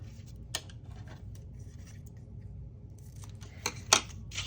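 Scissors cut paper for a double-sided hinged pocket in a junk journal: a single quiet snip early on, then a couple of sharper snips near the end, close and faint, with no talk.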